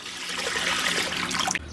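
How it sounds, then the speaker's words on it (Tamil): Water is poured steadily into a cooking pot to boil dried salted meat, a continuous close splashing rush lasting about a second and a half before cutting off abruptly. "காஞ்ச கறி வேகிறதுக்கு தண்ணி சேர்த்துக்கிடுவோம்."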